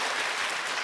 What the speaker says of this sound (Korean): 우리 주님께 영광의 박수 드리겠습니다